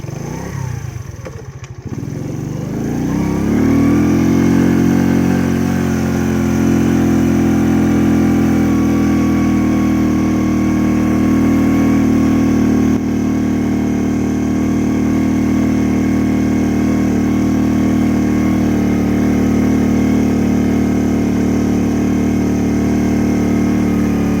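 A 100cc motorcycle engine labors climbing a steep hill, its loud, steady drone holding high and strained for a long stretch with no one speaking.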